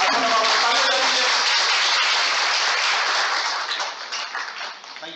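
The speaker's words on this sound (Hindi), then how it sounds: "अच्छा लगा तो ताली बजा दीजिए।" An audience at a skill enhancement program session claps loudly and steadily, a dense burst of applause that fades out toward the end.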